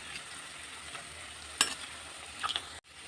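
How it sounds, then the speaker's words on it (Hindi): Litti dumplings deep fry in a pan of oil with a soft, steady sizzle, one sharper clink near the middle and a couple of light taps as they are flipped. "इस तरह से दोनों तरफ उलटते पलटते हुए हम अपनी लिट्टी को अच्छी तरह से डीप फ्राई कर लेते हैं"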